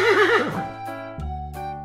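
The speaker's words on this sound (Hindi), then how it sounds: "हॉर्स मीन्स घोड़ा।" A horse gives a loud, close whinny that rises and wavers, then trails off into lower snorting calls, with no voices over it.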